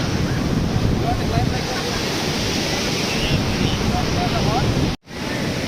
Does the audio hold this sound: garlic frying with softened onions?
no